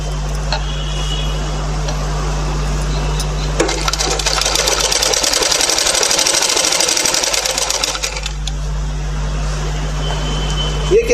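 A sewing machine stitches along the folded border of a baby vest, its steady rapid whirring running continuously and growing louder and faster mid-way before easing back, with someone speaking Hindi over it.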